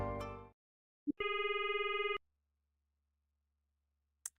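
A telephone rings in a video game during a call, one loud electronic burst of ringing lasting about a second after a short thump, with a faint beep near the end; no talking.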